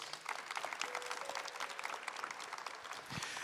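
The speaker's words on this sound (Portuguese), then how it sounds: "Vamos aplaudir a palavra de Deus?" A church congregation claps after a Bible reading at Mass, a steady, dense round of applause that holds evenly throughout with no talking over it.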